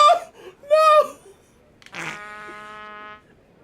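Cartoonish fart in the South Park: The Fractured But Whole video game, a long buzzing tone after short bursts of squeaky vocal sounds, close and loud over a quiet background.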